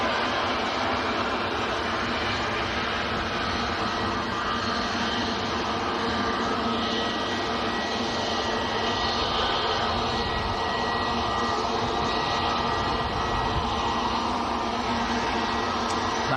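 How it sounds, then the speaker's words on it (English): Finnair Airbus A319 at Manchester Airport, heard as a constant broadband engine roar with a whining, hissing upper layer that holds at a steady level for the whole stretch, with no voices over it. "Nice to see the A319 on the Finnair."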